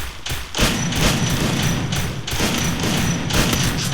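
Video game gunfire rattles in rapid bursts, loud thuds and booms rolling continuously with brief gaps, over faint background chatter.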